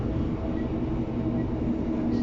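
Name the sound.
East Midlands Railway class 156 train running, onboard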